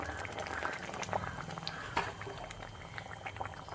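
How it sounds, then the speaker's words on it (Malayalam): Fish curry bubbling in a pot on the stove, a soft, continuous simmering burble with small plops, close and fairly quiet, no voices. "മീൻ കറി തിളച്ച് വെന്ത് വരുന്നുണ്ട്"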